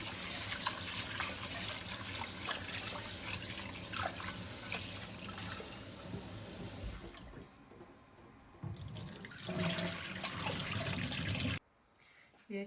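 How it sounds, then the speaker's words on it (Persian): Rice is rinsed in water in a home kitchen, a steady splashing and trickling wash that pauses briefly midway, then resumes before stopping abruptly near the end. "برنجمون رو میشوریم."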